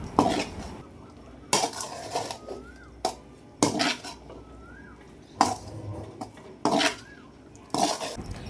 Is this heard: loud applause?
no